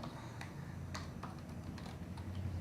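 Someone types on a computer keyboard while working in Adobe InDesign, giving scattered soft key clicks in an uneven rhythm over a low steady background hum.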